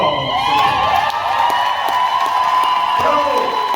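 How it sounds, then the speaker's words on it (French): An audience at a choir performance claps and cheers loudly, a continuous crowd roar with whoops and scattered claps, voices shouting over it. "Alors, nous allons applaudir très fort."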